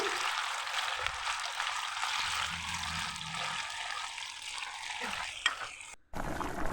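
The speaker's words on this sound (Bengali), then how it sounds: "এরপর আমি এগুলোকে একটা একটা করে দিয়ে দিচ্ছি তেলের মধ্যে" Potato balls dropped into hot oil in a wok, a dense steady sizzle of frying up close with small splashes and a brief clatter near the end, no speech.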